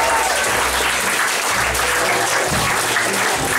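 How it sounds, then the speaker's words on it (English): Audience applause at a county comedy club night, a dense steady clatter of clapping from a crowd lasting the whole stretch, fairly loud and close, with low murmuring underneath. "Round of applause for all the sign-ins."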